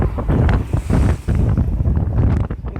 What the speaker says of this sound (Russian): Вот это дует.